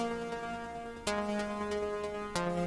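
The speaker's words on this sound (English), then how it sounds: "This is how this synth sounds" A clean synth tone sustains steady harmonics while sharp, bright plucked notes bounce in an arpeggiated pattern, with two stronger accented hits standing out.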